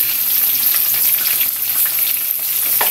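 Squid fries in a pan with a loud, close, continuous sizzle and crackle, steady for the few seconds with no voices.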